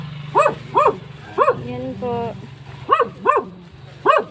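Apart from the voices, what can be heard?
dog barking at the house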